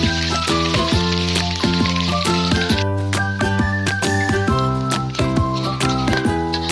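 Beef dendeng frying in hot oil in a home kitchen, a steady close sizzle and crackle with scattered pops, mixed with music-like tonal tinkling and no talking.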